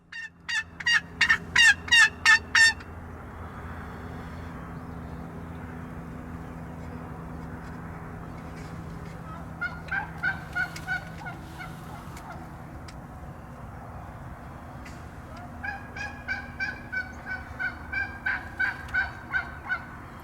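A wild turkey tom spits and drums: sharp repeated bursts of calls, with a low, steady drumming hum underneath and more scattered clucks later on.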